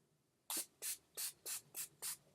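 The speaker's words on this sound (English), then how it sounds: "So now I'm just going to set my face with my NYX primer spray." NYX primer setting spray misted onto the face in six short, crisp hissing bursts at an even rhythm, close to the microphone with no talking.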